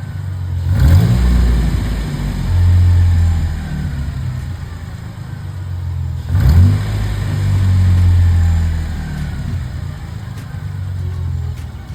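A Jeep engine, just after its throttle body was cleaned, idles and revs up twice in close, loud swells, settling back to a rough steady idle between them.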